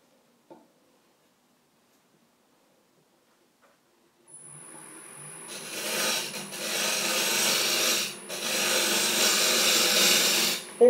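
Woodturning gouge shaving a 12-inch wooden fruit bowl on a lathe: after a quiet start and a faint knock, a loud continuous rasping cut begins midway, with a brief dip before resuming steadily and close.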